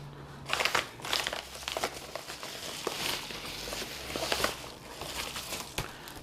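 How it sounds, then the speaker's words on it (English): Packaging crinkles and rustles as a HENDR 58mm bottomless portafilter for E61 espresso machines is unboxed, with close, uneven crackling bursts and a few sharper handling knocks, and no voices. "So let's unbox this."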